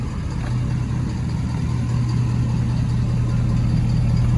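A 2018 Ford F-350 Super Duty Lariat pickup idles steadily, a loud, close, even engine drone with a deep hum and faint ticking, no talking over it.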